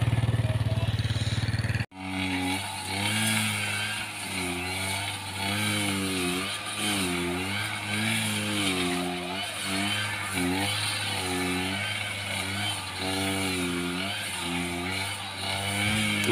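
Grass cutter engine running steadily on a farm, a loud continuous motor drone with a rhythmic pulsing throttle, starting abruptly after a brief quiet moment and staying close throughout.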